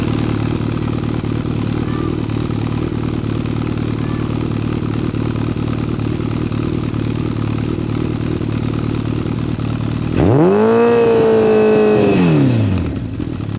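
A motorcycle fitted with a Yoshimura exhaust idles steadily with a throaty, even drone, then snaps into one sharp rev that climbs and falls back near the end. The sound is close and loud, and no one speaks.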